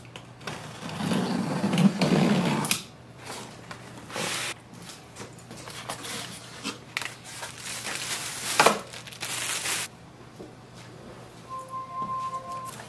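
Packaging of a Brother MFC-J1012dw printer being handled during unboxing, with bursts of loud crinkling and rustling plastic and cardboard, pauses between handling, and scattered softer rustles afterward.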